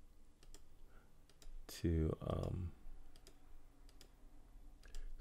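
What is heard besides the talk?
computer keyboard keys and mouse clicking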